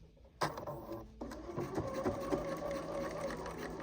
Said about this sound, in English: So let's go ahead and let's do a little sewing here.